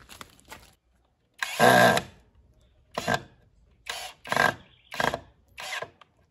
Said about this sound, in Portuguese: E vamos parafusar essa, esse parafuso na mesinha de madeira ali, né?